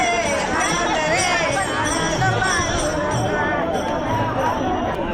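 A dense crowd of pilgrims gathers at Ashadhi Ekadashi in Pandharpur, a steady, continuous hubbub of many voices and movement filling the whole stretch at an even level.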